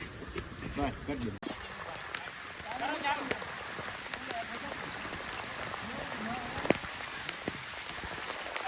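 Steady rain patters on surfaces in Junagadh near Mount Girnar, a continuous close drumming with scattered sharper drops, while people talk over it.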